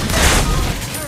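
Loud gunfire from a video game fills the moment in a dense, blasting burst that slowly decays, with a voice talking over it.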